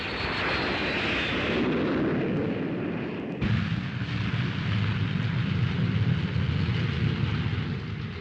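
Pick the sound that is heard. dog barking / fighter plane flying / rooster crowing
fighter plane flying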